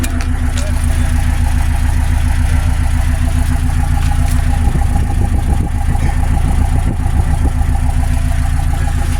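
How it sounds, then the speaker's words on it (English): A Pontiac Grand Prix GXP, revived after being abandoned, idles with a steady deep exhaust rumble, loud and close, with a few light blips of the throttle partway through. "Let's hear the exhaust."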